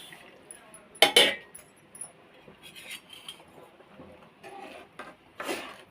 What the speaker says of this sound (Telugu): ఉండలు కట్టకుండా ఇలా కలుపుకుంటూ ఉండాలి